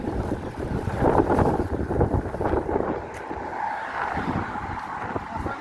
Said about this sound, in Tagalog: ngayon po ay malakas talaga ang hangin